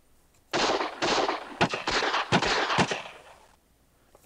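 A cruise missile attack in the strategy video game Civilization II comes through as a burst of crackling, rattling explosive blasts over about three seconds, loud and close, with no talking.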